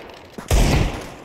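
A sharp, loud gunshot burst from the Counter-Strike video game follows a faint click, then trails off into a short decaying tail.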